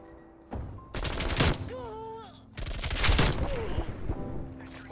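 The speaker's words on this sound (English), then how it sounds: "They really have a sentry gun back there." Sentry gun fire in Call of Duty Cold War, sounding as loud bursts of rapid gunfire that stop and restart, with brief voices and tonal game effects in the gaps.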